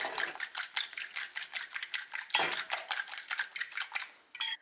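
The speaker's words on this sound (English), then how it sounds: "Beat it until everything combines." Eggs with salt, turmeric and finely chopped coriander are beaten hard in a bowl, giving rapid rhythmic clinking strokes of a utensil against the bowl, loud and close, with a brief pause near the end.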